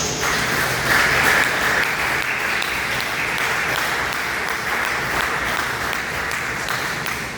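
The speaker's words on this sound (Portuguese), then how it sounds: "dê uma salva de palmas bem alegre para Jesus" Joyful applause from a church congregation, a sustained, even wash of many hands clapping that stays loud and unbroken from start to finish.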